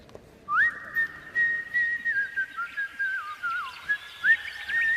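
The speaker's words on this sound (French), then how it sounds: "Elle se met à siffler une chanson." A person whistles a melodic tune up close, clear and bright, with sliding pitches and short phrases in a quiet room.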